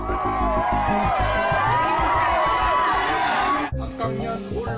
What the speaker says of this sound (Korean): 이재명 후보가 탄 차량이 지나가자 환호하는 사람들.